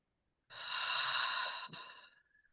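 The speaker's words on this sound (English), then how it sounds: "inhaling and then exhaling through your mouth and relaxing while you exhale" A single slow, close breath through the mouth: a long, airy exhale lasting about a second and a half, then a short faint tail, with no talking.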